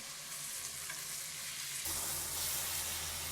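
Big steak searing in a hot pan: a constant loud hiss of sizzling fat that swells slightly partway through, close and unbroken with no voices.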